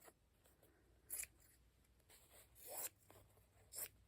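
Scissors cut through fabric for a stitchery block in three separate crisp snips spaced about a second apart, close and clear over a quiet room with no talking.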